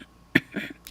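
A voice imitates a man clearing his throat: a short rough burst followed by a couple of softer guttural rasps, close and isolated.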